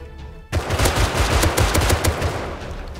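Rapid bursts of automatic gunfire in a video game shootout, loud and close, with a continuous rattling stream of shots after a sudden start and no voices over it.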